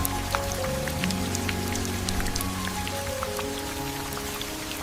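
Rain falls steadily, a dense patter of drops on surfaces close by, even and continuous throughout with no voices.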